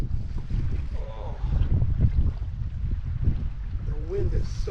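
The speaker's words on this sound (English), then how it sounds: "The wind is so strong at this end of the lake though." Strong wind gusts across a lake, a steady broad roar buffeting the microphone from a small fishing boat, with people talking intermittently over it.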